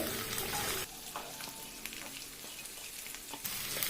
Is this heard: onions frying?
yes